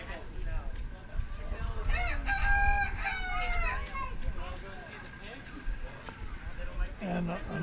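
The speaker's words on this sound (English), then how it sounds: "Lots of chickens." Chickens crow and cluck in a poultry exhibit barn at a county fair, several roosters calling in overlapping bursts close by, with people talking in the background throughout.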